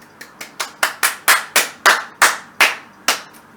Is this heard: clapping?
yes